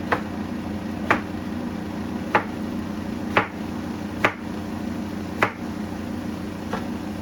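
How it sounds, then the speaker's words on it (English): A knife chops through Korean squash on a board, six sharp cuts at a slow, even pace over a steady background hum from something sizzling. "I'm gonna be cutting my Korean squash"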